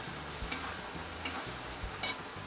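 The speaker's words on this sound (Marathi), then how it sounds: "अर्धा चमचा गरम मसाला पावडर, अर्धा चमचा धने जिरे पावडर, हे मिक्स करून घेते" Garam masala and coriander-cumin powder are stirred into soft cooked tomatoes in a pan, with a quiet steady sizzle and three soft scraping strokes of the spoon at regular intervals.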